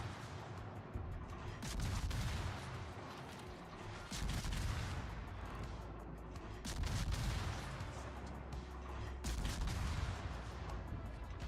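Warship turret guns firing in World of Warships, a dense series of heavy booming salvos with rumbling low end and crackling decay, several loud bursts spaced every couple of seconds over continuous battle noise.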